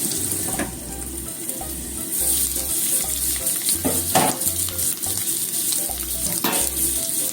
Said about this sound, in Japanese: じゃあ蓋をしてね、3分ほど焼きますから